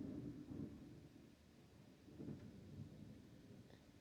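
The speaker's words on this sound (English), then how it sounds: "That thunder was loud as shit." Distant thunder rumbles low and faint through a quiet background with light rain, swelling in two slow rolling waves without any voices.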